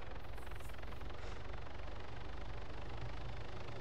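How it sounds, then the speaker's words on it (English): Helicopter hovering while dropping off a vehicle in the video game Arma 3, a steady loud broadband rotor and engine roar that runs throughout, with no voices. "the helicopter's about to drop it off"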